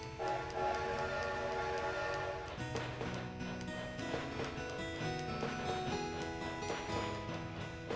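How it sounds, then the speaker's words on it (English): A train ride in the video game Animal Crossing, with a steady rolling rumble and layered game tones running continuously and evenly throughout, moderately loud and close. "Let's get on the train."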